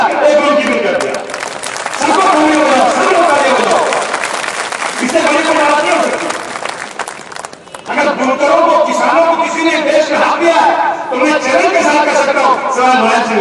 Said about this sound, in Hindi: इतना ज्यादा तालियां बजाओ मुलायम सिंह यादव के लिए